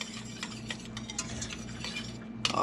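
A spoon scrapes and stirs cumin and spices into chicken enchilada soup in a pot, with repeated soft clinks and scraping against the pot and a sharper knock at the end.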